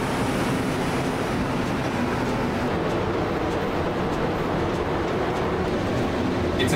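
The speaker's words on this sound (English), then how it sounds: "Here comes the train." A loud, steady rumble of a Montreal metro train rolling in, with broad rushing noise and faint rhythmic clicks, continuous and close, no voices.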